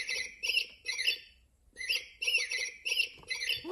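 Small bird chirping in repeated bursts of bright, high tweets, several quick clusters with a brief pause midway, fairly close and clear with no talk over it.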